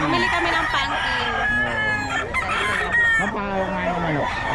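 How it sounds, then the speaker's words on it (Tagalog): A solid brassback rooster crows repeatedly at a poultry seller's spot, its long harmonic calls overlapping with clucking from other fowl nearby, fairly loud and close. "Namimili lagi ng manok ko dito, si Madam, saka si Boss."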